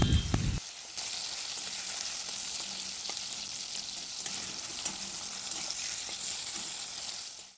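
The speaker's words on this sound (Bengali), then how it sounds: "সামান্য একটু নুন দিয়ে টমেটোটা ভেজে নেওয়া হবে" Chopped small tomatoes with a little salt sizzle and fry steadily in a pan, a constant hissing crackle with occasional stirring clicks and no talking.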